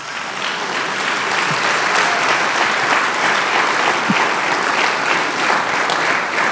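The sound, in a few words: congregation applause in church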